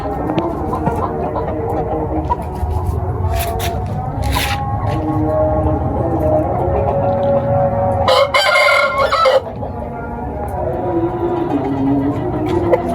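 Ayam Cemani chickens in a rooftop poultry setup in Faisalabad crow and cluck, with a loud crow standing out midway, while someone talks throughout close by.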